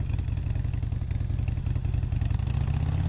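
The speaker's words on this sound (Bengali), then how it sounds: "তারপর তারা বাইক নিয়ে বাড়ির উদ্দেশ্যে রওনা দিল।" A motorcycle engine runs steadily and close by for the whole stretch, with a low throbbing drone and some mechanical clatter as the bike pulls away along a village road at dusk.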